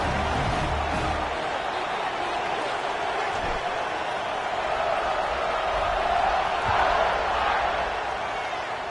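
Stadium crowd roaring steadily throughout an NCAA college football video game kickoff, a dense wall of cheering noise that swells slightly near the end, with a commentator's voice faintly mixed in.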